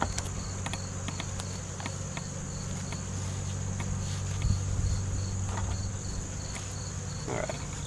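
Honey bees buzz around an open hive during a honey harvest, a steady continuous insect drone with a faint tonal whine, close and constant with no talk.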